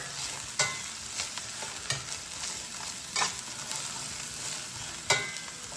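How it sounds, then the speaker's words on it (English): Steak pieces are stirred in hot oil in a pan. A steady sizzle runs throughout, with a spoon scraping and clinking against the pan every second or so, close and fairly loud. "let's get those all coated up in the oil"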